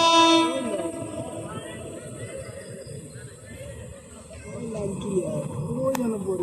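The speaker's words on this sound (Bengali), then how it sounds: "ট্রেন যে আসতেছে তো দেখুন" A train arriving at the old Bhawal Gazipur railway station, with a horn blast at the start and then a rumble of wheels on the rails that swells toward the end, while people talk nearby.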